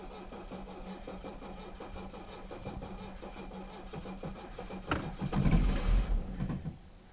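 A cold diesel engine running on waste vegetable oil cranks on its starter with a steady churning rhythm, then briefly catches and surges louder before dropping away, close and with no one talking.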